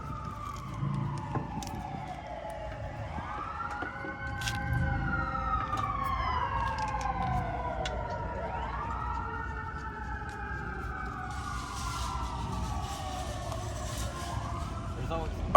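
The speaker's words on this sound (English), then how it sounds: "In the last video there was a siren, now there's a siren." A siren wails in repeated rising and falling sweeps, loud and close, over a steady rumble of street traffic.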